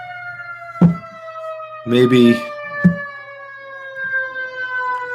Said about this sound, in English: now we've got sirens going by